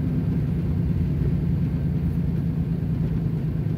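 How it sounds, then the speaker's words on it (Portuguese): A Volvo truck working its engine brake on tight streets in Rio Grande gives off a continuous deep rumbling drone, steady and fairly loud with no voices over it. "no freio motor, tá vendo, ó, olha o barulho dele"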